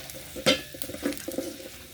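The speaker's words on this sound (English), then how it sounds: "Then you stir, you saute." Spices are stirred and sautéed in a hot pot as the base for Kenyan beef pilau, with a few sharp scrapes of a spoon against the pot over a soft sizzle.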